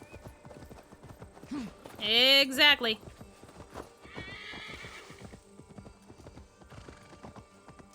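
A horse in a video game clip-clops at a walk, with a loud close whinny midway and steady hoof beats throughout, while a person speaks briefly.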